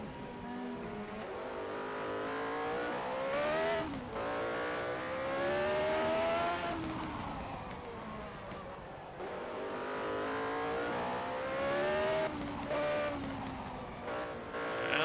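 A 1987 CART Indy race car at the Molson Indy Toronto street race screams through repeated upshifts and downshifts, its engine pitch rising and dipping in cycles, loud and close throughout.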